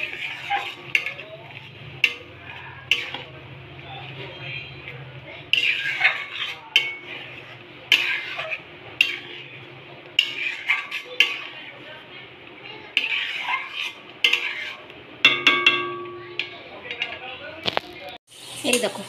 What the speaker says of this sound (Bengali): এই দেখো পেঁয়াজ, আদা, রসুন এই যে পেস্ট করে রেখেছি, এবার দিয়ে দেবো এটা। ভালো করে কষিয়ে নিই।